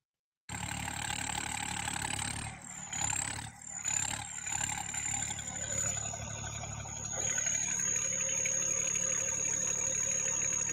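A tractor engine revs steadily and fairly loudly in a continuous mechanical drone, with brief dips in the middle before it settles into a sustained higher tone with a whining note on top.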